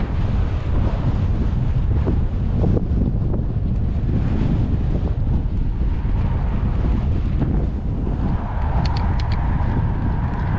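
Strong headwind roars across the microphone of a cyclist riding uphill on a rural Texas loop near St. Jo and Nocona. The buffeting stays loud and continuous and drowns out everything else.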